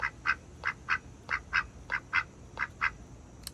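A duck quacks in a steady run of about a dozen short, nasal calls, evenly spaced and fairly loud against a faint background hiss, with no voices.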